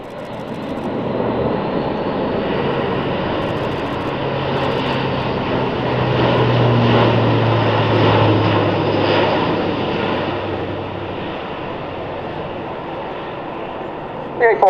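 Airbus A400M Atlas turboprop transport of the German Air Force in a flying display at RAF Fairford, a broad droning propeller roar that swells as it passes and fades, with a commentator talking over it.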